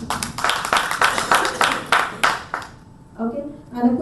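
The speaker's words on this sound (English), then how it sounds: "Can we have a round of applause for him" A small audience claps at a forum event, with distinct separate hand claps dense at first that thin out and stop partway through, followed by a voice speaking in a quiet room.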